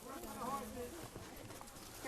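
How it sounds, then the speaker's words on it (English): Horses pass along a trail during a wild foraging walk, hooves clip-clopping in an irregular rhythm at moderate distance, with people talking over them. "So let's step over to the side here and we'll let the horses go by."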